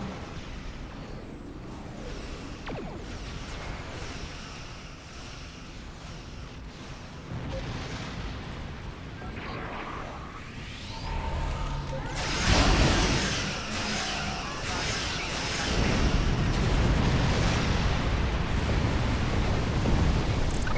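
Starship plasma lance firing in a space combat game from a Yamato Class dreadnought cruiser, opening with a rumbling charge and erupting into a loud, sustained blast that swells in bursts around the middle and stays intense to the end.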